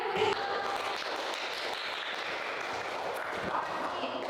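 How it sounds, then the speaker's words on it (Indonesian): A classroom audience gives a round of applause during a school lesson, a continuous, moderately loud patter of clapping hands that holds steady throughout with no speech. "Beri tepuk tangan ya"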